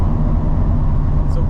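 A loud, close four-rotor engine in a Toyota Supra drones with a steady low rumble and a slight fluttering texture, heard from inside the moving car.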